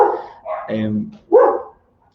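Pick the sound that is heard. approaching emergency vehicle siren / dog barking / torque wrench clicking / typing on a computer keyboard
dog barking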